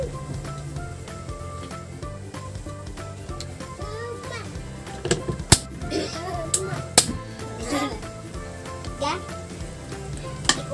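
Chicken liver and gizzards frying in a pan for adobo, a steady sizzle beneath background music, with occasional sharp clinks and a voice faintly in the background.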